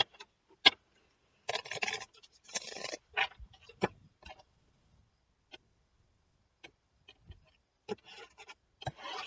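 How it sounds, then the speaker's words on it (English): Tarot cards being shuffled by hand, with short crisp riffling bursts and scattered taps and clicks separated by quiet pauses, close and fairly faint. "One more shuffle and then I'll cut."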